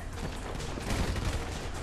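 Rapid gunfire in GTA V, a dense continuous crackle of shots with booming low thuds, loud and close, running steadily throughout with a slight swell midway.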